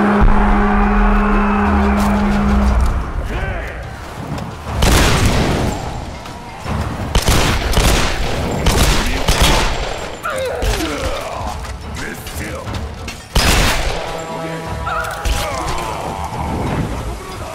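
Shotgun and pistol gunfire in Tomb Raider, loud booming shots and sharp bangs spaced irregularly over mechanical game noise and clatter, with someone talking at times.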